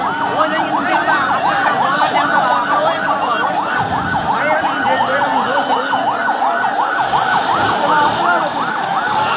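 Fire engine sirens wail loudly and continuously at a major fire in Maijdee Hawkers Market, Noakhali, with a fast rising-and-falling whoop cycle over traffic rumble and faint crowd voices.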